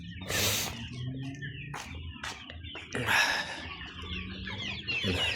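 Two-month-old chicks in a coop give bursts of clucking and chirping, with intermittent rustling and scratching close by.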